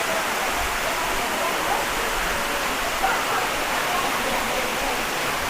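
Lubcon Falls in Cortes, Surigao del Sur, heard up close as a loud, steady broadband roar of falling water, unbroken from start to finish.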